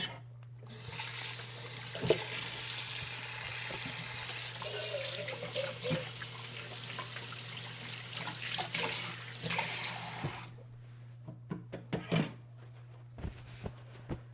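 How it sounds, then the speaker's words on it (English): Tap water runs steadily into a sink for about ten seconds as hands are washed during cooking, then cuts off, leaving a few scattered clicks and knocks. "let me wash my hands up."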